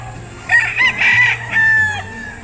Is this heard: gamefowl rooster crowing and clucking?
yes